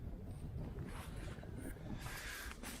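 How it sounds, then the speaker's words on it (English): Wind gusting around a tarp shelter at a cold night-time backpacking campsite, a steady low rumble with brief flapping rushes, strongest near the end, with no voices. "the wind started blowing stuff in my tarp again"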